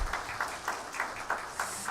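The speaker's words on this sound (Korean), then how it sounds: "은혜로운 찬양을 해주신 우리 성가대원들에게 다시 한번 감사의 박수하겠습니다." Chapel congregation at Hanyang University gives a brief round of applause for the choir, fairly faint with soft rhythmic clap bursts recurring about every third of a second.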